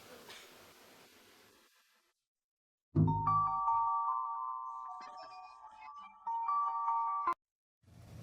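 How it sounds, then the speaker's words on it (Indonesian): A brief clunk, then a steady electronic phone ringback tone sounds for several seconds before cutting off abruptly. "Telepon Beno nih"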